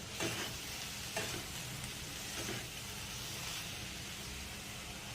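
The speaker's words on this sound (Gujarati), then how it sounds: "તો તેમાં આપણે પલાળેલા જે મમરા હતા એ ઉમેરી દઈશું અને આપણે તેને સારી રીતે મિક્સ કરી લઈશું." Soaked puffed rice being mixed with softened tomatoes in a pan: a soft, continuous sizzle broken by several gentle stirring scrapes.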